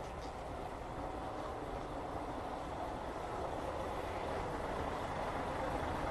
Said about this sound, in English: Oh, it's a bus.